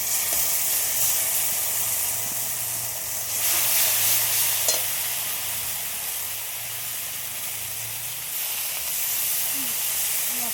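Onion and tomato with turmeric and salt frying in a pan for a fish curry, a steady close hiss and sizzle with occasional stirring scrapes, no talking.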